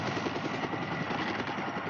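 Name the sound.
helicopter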